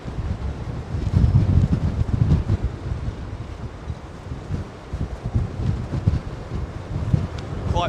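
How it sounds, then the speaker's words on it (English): Blustery gusts at London Heathrow buffet the microphone in loud, uneven rumbling bursts that rise and fall over several seconds. "Quite blustery conditions here at London Heathrow."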